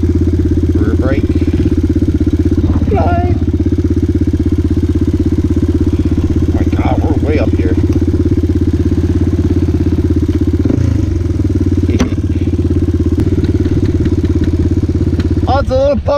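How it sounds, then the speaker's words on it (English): A Honda 400EX ATV idles with a steady, low, throbbing putter close by. People talk intermittently over the constant engine drone. "It's a little putt-putt engine."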